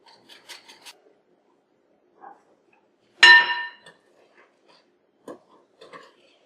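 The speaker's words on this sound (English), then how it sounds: "I'm going to sift it into my egg mixture and stir it up." Spoon stirring sifted flour into an egg mixture for apricot pecan bread, sparse scraping rasps against the bowl with one louder clinking scrape midway, quiet gaps between strokes.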